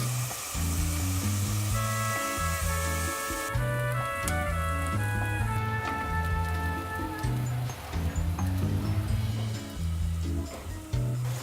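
Onions frying in a pan make a steady, dense sizzle that runs throughout at close range, with music playing over it and no talk.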